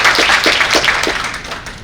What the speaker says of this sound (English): So if everyone can give him a big round of applause